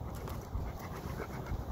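A big dog pants in steady, rapid breaths, close and alone, at a kennel.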